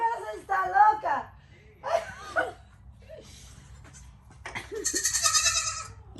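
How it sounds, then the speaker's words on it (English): Goats bleat on a farm in several separate wavering calls with short gaps between them, loud and close, ending in a higher, longer cry; a human voice seems to mix in among the calls. "You can sign up for our live goat cam 24/7."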